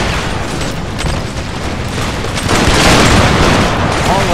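Musket volleys in an Empire: Total War battle, a dense continuous crackle of massed gunfire with booming swells, loud and near, building toward the end.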